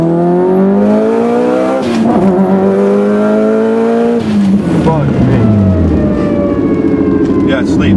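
A Subaru STI with a sleeved block revs as it drives around a corner on a wet, rainy road, its engine note climbing and falling in loud, close sweeps with a brief dip between pulls.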